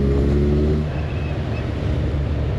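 A Kawasaki Z1000 SX four-cylinder sport-tourer cruises in sixth gear at about 47 km/h, a low, steady engine hum with a faint lower drone briefly at the start, mixed with continuous wind rush and no speech.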